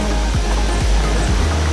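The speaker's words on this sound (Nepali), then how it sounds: "झर्ना चाहिँ खतरा आउँछ होला सायद" Waterfall swollen in the rainy season, a dense, continuous roar of falling water filling the air up close, unbroken and loud throughout with no voices.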